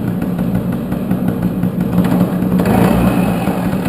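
A Tomos LX moped engine idles steadily just after a kick start, a close, continuous low putter with a slight rise partway through.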